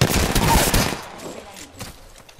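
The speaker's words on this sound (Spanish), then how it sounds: "Están disparando." Video game gunfire as a dense burst of rapid shots, loud at first and then tapering into scattered distant pops.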